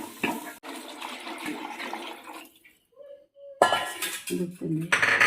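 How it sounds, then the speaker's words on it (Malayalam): Water splashes into a cooking pan of beans with ginger-garlic paste amid clinks of metal utensils, pausing briefly before more clattering and pouring follow. "ഇനി നമുക്ക് ഇതിനകത്തോട്ട് ഇച്ചിരി വെള്ളം ഒഴിക്കാം."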